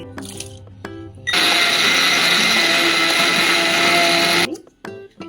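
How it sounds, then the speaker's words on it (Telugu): A kitchen mixer grinder whirs loudly and steadily for about three seconds, grinding flax seeds with salt and asafoetida into podi powder, starting and stopping abruptly with quieter clatter before and after. "మళ్ళీ ఒకసారి మిక్సీ చేసుకోవాలి."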